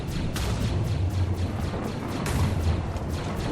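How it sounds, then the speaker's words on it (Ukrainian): Rapid, repeated booms and blasts from a Minecraft explosion sequence, dense and loud, with heavy low-end rumble throughout. "Це вибухає, капець, що робити будемо."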